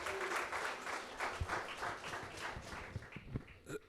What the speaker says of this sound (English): Give a round of applause to our partners.